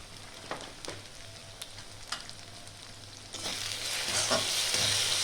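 Chicken with salt, turmeric and Kashmiri chilli powder stirred and fried in a pan, a steady close sizzle with intermittent spoon scrapes and taps, the frying growing louder and brighter partway through; no voices.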